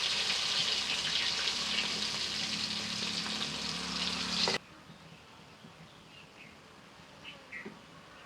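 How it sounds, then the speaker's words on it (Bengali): Pieces of pangas fish frying in hot oil give a loud, steady close-up sizzle for about four and a half seconds, then cut to quieter kitchen background with faint clinks. "বাকি মাছগুলো ভেজে নেবো।"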